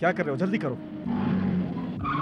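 A car screeches to a sudden stop with a rising tire skid, following a man's hurried, urgent voice in a taxi scene.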